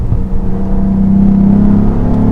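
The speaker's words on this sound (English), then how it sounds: "the exhaust does make real sounds back there. It sounds like thunder." A 2022 Cadillac CT4-V Blackwing engine rumbles low and steady, its exhaust note swelling slightly as the revs climb, close and loud throughout.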